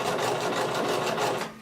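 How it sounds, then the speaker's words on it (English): Sewing machine stitching a halter crop top, a steady fast mechanical whir with rapid rhythmic needle pulses running continuously for the whole moment, close and fairly loud, easing slightly at the end. "keep sewing"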